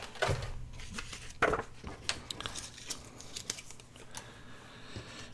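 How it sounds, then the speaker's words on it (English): Scissors snip and trim paper scraps for a side-fold ephemera notebook, giving a few quick, close cuts with light crinkling and rustling of paper between them, no voices. "I'm just going to use my scissors, trim them like that"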